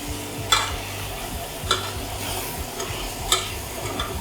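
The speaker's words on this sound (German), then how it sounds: "Deswegen werde ich jetzt Hitze ein bisschen hochstellen und richtig anbraten." Minced pork for Taiwanese meat sauce sizzles steadily in a pan over raised heat, with three sharp clinks of a utensil stirring against the pan.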